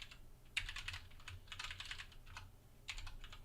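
Quick bursts of typing on a computer keyboard set at an angle, fairly close and soft, with irregular clusters of key clicks separated by brief pauses.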